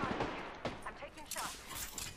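Rapid bursts of gunfire in a battle-royale-style shooter video game, repeated sharp cracks and volleys at close range, overlapping with game sounds and a player's voice talking throughout.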